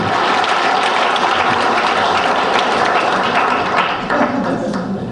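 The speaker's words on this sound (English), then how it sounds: "Can you please applaud Madame Pétry?" An audience at an animation event applauds for a presenter, a loud, dense and continuous wash of clapping from many hands that holds steady before easing slightly near the end.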